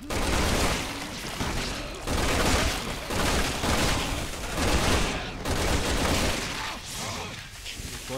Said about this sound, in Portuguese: eu tô dando tiro de 12, mano